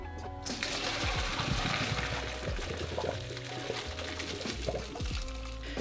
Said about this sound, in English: Okay, I wanna drain this pasta.